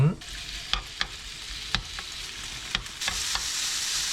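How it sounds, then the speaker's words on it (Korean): Meat and onion sizzle and fry in a pot on a home stove, with a steady hiss broken by a few sharp clicks and scrapes of stirring, close and moderately loud with no talk. "고기랑 양파를 살짝만 익혀주도록 하겠습니다"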